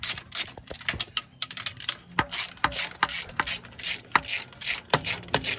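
Ratchet wrench backing out two loosened half-inch bolts from an engine block, a run of quick close clicking bursts with brief pauses between strokes, no talk.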